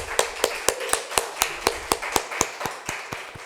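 Sparse, hesitant applause from a church congregation honoring a retiring member, about a dozen separate claps in a loose irregular rhythm, fairly close and moderately loud with no talking over them.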